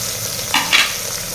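Onions frying and being stirred in a pan for mutton tomato curry: a brief close scrape or two of a spoon over a hissing sizzle, no speech.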